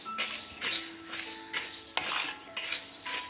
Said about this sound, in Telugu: ఈ పప్పులు కూడా మంచిగా దూరగా వేయించుకోవాలి.